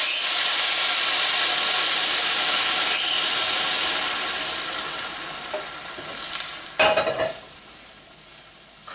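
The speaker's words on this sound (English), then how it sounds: "my liquid is now boiling, so I'm going to go ahead, add my liquid, bring my rice to a simmer." Boiling liquid poured into jasmine rice in a hot pan, a loud, steady hissing sizzle that slowly fades, followed by a few stirring scrapes and bursts of bubbling.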